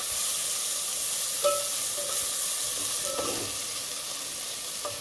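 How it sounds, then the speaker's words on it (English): A pan of mushroom pilaf with fresh mint and coriander sizzles softly as it is stirred, a steady close hiss with a few light spoon clinks and scrapes, no voices. "Just give it a stir."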